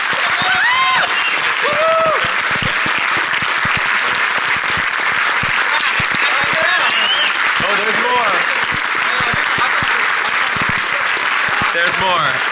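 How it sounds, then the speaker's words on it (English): A conference crowd at a hacker convention breaks into loud, sustained applause, a dense wash of clapping with scattered cheers and whoops rising through it from start to finish. "So please give your strongest round of applause for Mudge and everything he's done"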